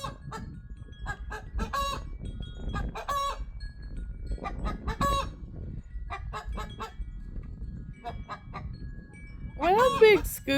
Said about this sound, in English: That's the first time I've ever heard him crow.